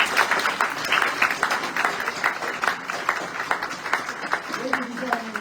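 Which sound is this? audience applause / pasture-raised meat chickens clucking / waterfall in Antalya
audience applause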